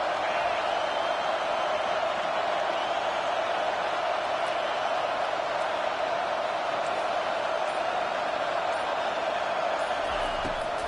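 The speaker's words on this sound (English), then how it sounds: "Decibels rising as the crowd gets behind this defense on third down." A stadium crowd roaring behind the defense on third down at an Alabama–Cal football game, a dense steady wall of noise held throughout with a faint thump near the end.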